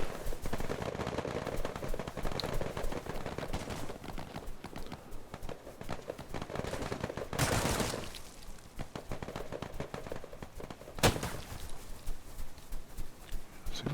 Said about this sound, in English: Seems like there's some friendly fire going on here.